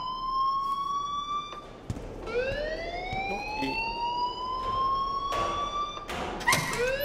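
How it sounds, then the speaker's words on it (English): An alarm from the video game Life is Strange wails in long rising electronic tones, repeating over several seconds with scattered thumps and brief noise bursts. "please turn off that alarm since that's your job"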